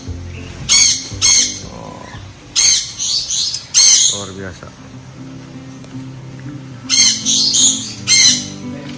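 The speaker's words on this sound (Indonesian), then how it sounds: "Tuh, burung-burung unik tuh. Ada bebek mandarin." Loud bursts of squawking from unusual birds, including mandarin ducks, come in clusters with pauses between them, mixed with close-up talking.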